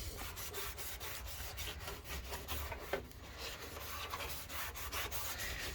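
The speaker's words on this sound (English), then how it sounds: "give it a good rub down, make sure the paint's going to adhere to it." Hand sanding on Astra van bodywork before painting, a faint, steady scratchy rubbing in quick repeated strokes, continuous and fairly quiet with no voices.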